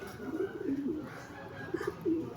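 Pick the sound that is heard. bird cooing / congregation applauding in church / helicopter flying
bird cooing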